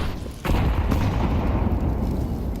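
Several grenades go off in a Counter-Strike professional match, a sudden loud burst after a quiet start followed by a sustained roar of blasts and rumble that fills the rest of the moment.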